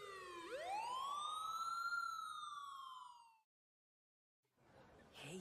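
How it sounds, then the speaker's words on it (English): A siren in an anime series wails up and then holds a long, drawn-out tone before cutting off, followed by a moment of silence and a faint rustle. "Kinda early to hear sirens like that."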